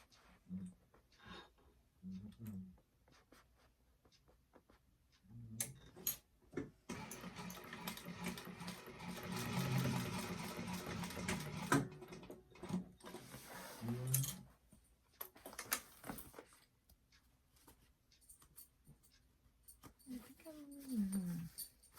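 A sewing machine stitches the seam of a fabric bag in a steady, close-up run from about 7 to 12 seconds, with shorter bursts later, while a person talks throughout.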